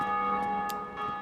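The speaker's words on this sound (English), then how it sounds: "you'll hear a bell ring in the background" A distant bell rings in Dark Souls, its sustained tonal hum lingering faintly behind soft game ambience, with a few brief muted hits and no talk.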